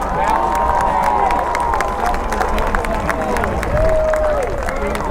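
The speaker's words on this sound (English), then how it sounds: "Let's give these fine seniors and their parents a big round of applause" Homecoming football crowd applauding seniors and their parents, a loud, steady wash of clapping and cheering with whistles and crowd babble rising above it, filling the whole stretch.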